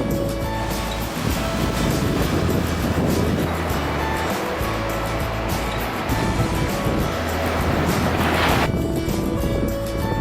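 Continuous rushing surf on the Black Sea shore at Varna, Bulgaria, waves washing steadily with broad noisy roar, wind buffeting the microphone throughout.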